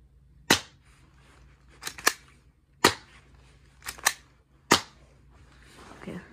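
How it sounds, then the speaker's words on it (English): BB gun shots fired at a small cardboard box: six sharp, loud cracks in an irregular rhythm, some in quick pairs, each with a short decay, and no talking. "We're gonna be firing at that little cardboard box right there"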